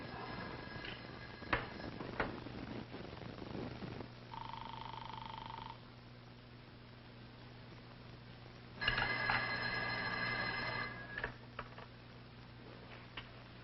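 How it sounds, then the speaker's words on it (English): A telephone rings in a house in two separate electronic rings several seconds apart, faint and distant within quiet room tone, with no speech. "Ruth, don't you hear the phone?"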